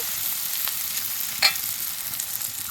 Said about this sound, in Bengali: দিয়ে দেবো পেঁয়াজ কুচি পেঁয়াজগুলো একটু নেড়ে নিব